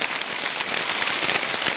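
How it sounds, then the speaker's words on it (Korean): Steady rain pours through a primeval forest on Ulleungdo's volcanic Seonginbong slopes, a dense, even hiss of drops pattering on leaves and ground, close and continuous with no voices. "도저히 깰 수 없을 것 같았던 원시숲의 고요함을 빗소리가 가득 채웁니다"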